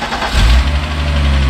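A turbocharged VR6 engine in a VW wagon build catches and settles into a steady, loud idle up close, with a deep, throaty hum.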